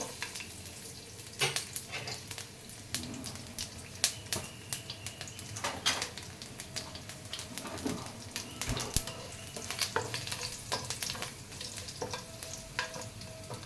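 Garlic frying in hot oil with mustard seeds and cumin gives a faint, steady sizzle, broken by crackling pops and occasional stirring, close by.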